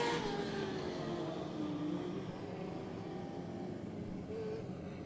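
Dustin Shaner's number 1 race car running on the track, its engine a steady, moderately distant roar that fades slightly as it continues, heard alone.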